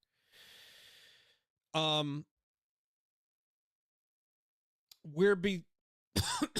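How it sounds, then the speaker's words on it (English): A single harsh cough bursts out near the mic, followed after a pause by more throat sounds and breathy noises, with a soft exhale at the start. "I got this cough that just won't leave me alone."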